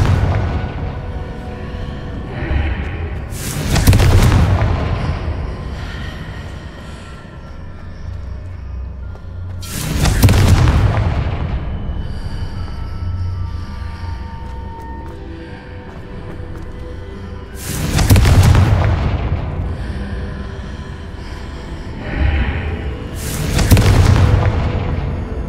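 Four loud, booming explosive fire-spell blasts from the Hogwarts Legacy video game, Confringo, bursting at spaced intervals over a low rumbling game backdrop.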